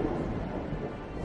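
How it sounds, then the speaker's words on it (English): Thunder from a storm over a city park, a steady low rumble with rain-like hiss, continuous and fairly loud for a moment, no talking. "Boom! Boom! Lightning lit up the sky."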